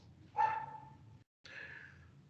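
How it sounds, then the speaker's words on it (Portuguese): A dog gives two short barks, the first sharper and the second following after a brief pause, faint and somewhat distant against a quiet room. "Até o cão começou a latir"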